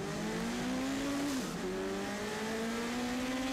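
Race car engines idle and rev on the starting grid just before the start, including a red Chevron prototype, a loud steady close drone whose pitch dips and then climbs again.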